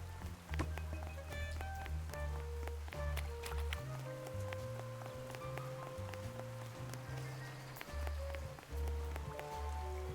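Rain falls in the video game Duck Detective as a soft, continuous patter of drops, quiet and steady beneath a layer of tonal game music.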